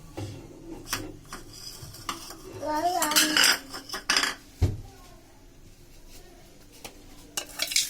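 A spoon clinks and scrapes against a bowl while fruit chaat with sugar and chaat masala is mixed, giving irregular close metallic taps and rubbing, with a few sharper knocks and no talk.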